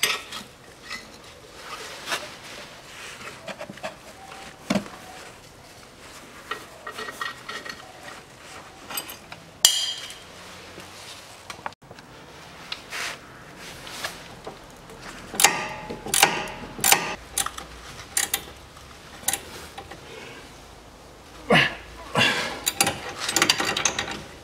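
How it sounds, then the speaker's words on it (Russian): Hex keys tightening the front strut bolts on a 2012 SsangYong Actyon 2.0 4WD, producing irregular metallic clicks, ratcheting and clinks of tools against metal. The sounds are close and intermittent and grow busier toward the end. "Вставляю шестигранники, закручиваю."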